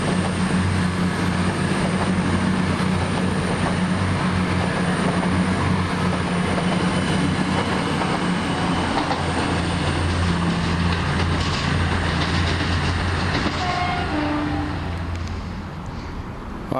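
A passenger train rolls through Leicester station, a loud sustained rumble with rhythmic wheel clatter and a faint squeal, heard close up and fading slightly at the end.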